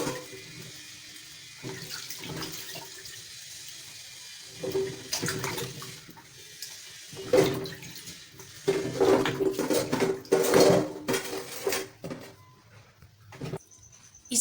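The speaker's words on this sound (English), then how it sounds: "And then wash your coconuts properly." Coconuts washed by hand in water, close splashing and sloshing that comes in repeated bursts along with knocks against a container, over a steady watery background with no talking.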